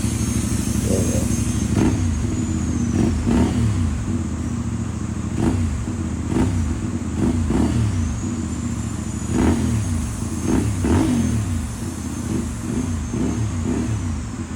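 A CFMoto 450MT motorcycle with an Akrapovic exhaust idles close by and is blipped through repeated sharp revs, each rising and falling back over a steady, throaty burble, with no talking.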